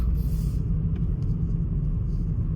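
A car driving along a road on a cold, cloudy winter day, heard from inside as a steady low rumble of engine and tyre noise, continuous and fairly loud throughout with no talking.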